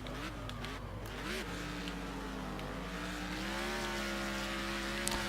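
A race car engine in Next Car Game droning steadily and dropping in pitch as it shifts down a gear, then pulling back up, close and continuous, with no talk.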